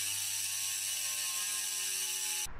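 Rapid ratchet clicking from a bicycle freehub coasting, a dense steady buzz of pawl clicks held close and fairly quiet, cutting off abruptly at the very end.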